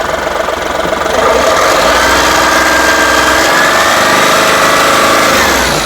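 A 2022–2023 Ashok Leyland Dost light truck diesel engine running at a steady, loud idle, close by, with a constant clattering mechanical drone and no talking.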